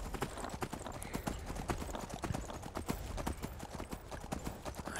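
Horse hooves clip-clop in a quick, steady rhythm while riding in the video game Skyrim, continuous and fairly close under a wash of background noise.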